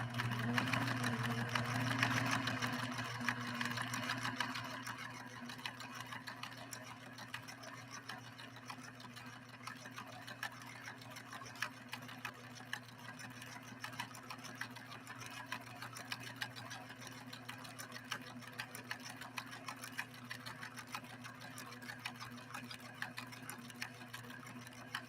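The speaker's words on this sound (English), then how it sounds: "Now that we're actually sewing leather with a leather needle, I'm going to speed her up just a little bit more." A Pfaff 1222E sewing machine fitted with a leather needle stitches through leather, giving a steady, rapid mechanical whir and ticking that runs continuously at a moderate level with no voices.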